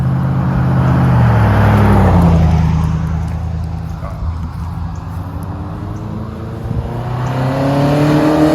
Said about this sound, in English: I think that car just broke down.